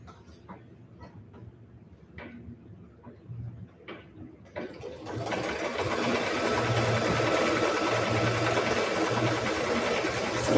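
A sewing machine runs steadily over fabric for the last half, preceded by quieter clicks and handling sounds, with faint talk in the room.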